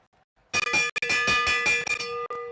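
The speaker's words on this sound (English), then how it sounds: "Here comes the bell." A final-lap bell is rung rapidly at a track cycling race during the 2024 USA Cycling Madison national championships, giving a loud, close string of bright metallic clangs.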